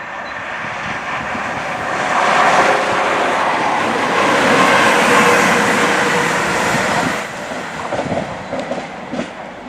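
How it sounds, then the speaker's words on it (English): An HST high speed train approaches along the Cross City Line station while a Class 323 unit waits at the platform, its roar swelling loud and steady, then easing slightly near the end. "The HST is coming right now"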